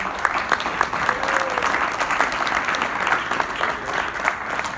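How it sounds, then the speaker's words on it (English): At a partners reception, a room full of guests gives a sustained round of applause for grant recipients: a dense, even wash of clapping that stays steady throughout, with faint crowd murmur beneath. "So if you can give them a big round of applause"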